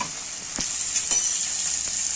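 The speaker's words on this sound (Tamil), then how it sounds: "நல்லா எண்ணெயில வதக்கிக்கோங்க" Chopped onions sizzle steadily in hot oil while being stirred for a prawn curry, a bright continuous frying hiss broken by a few sharp scrapes of the spoon, close and loud with no talking.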